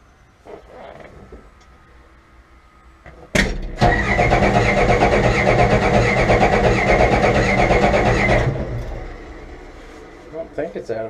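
A Mack B61 truck engine, probably out of fuel, is cranked by its starter in one long grinding, rhythmic churn of about five seconds. It follows a brief sharp knock, and the engine never catches. Quiet sounds come before and after.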